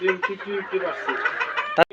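Chickens on a small poultry farm cluck repeatedly close by in short, rhythmic calls, with a sharp knock near the end.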